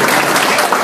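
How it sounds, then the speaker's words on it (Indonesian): Seminar audience applauding in a loud, dense burst of clapping, brief and close, with no talk over it. "Tepuk tangan untuk yang mas-mas."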